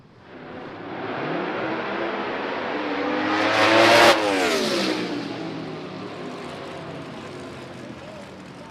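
A drag racing door car roars through a side-by-side qualifying run, engine revving loudly as it builds to a close, piercing pass around the midpoint, then fades away into the distance.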